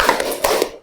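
Classroom students doing a rhythmic Indonesian clap routine, several sharp taps spaced in a quick pattern, close and fairly loud, with no talking.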